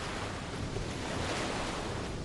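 Open-ocean waves wash in a continuous dense hiss and rumble, steady and moderately loud, with a wind-like quality and no voices.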